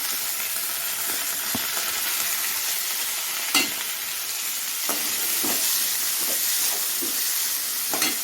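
Carrots and broad beans sizzle steadily while being sautéed in a pan for a vegetable poriyal, with a constant frying hiss broken by occasional scraping stirs of a spatula, close and moderately loud with no talking.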